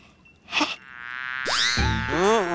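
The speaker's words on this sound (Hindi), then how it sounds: "हाँ गई ये मक्खी" A housefly buzzes in a children's fantasy TV scene, its drone rising and swooping in pitch, loud and close, with sound effects around it and no talk.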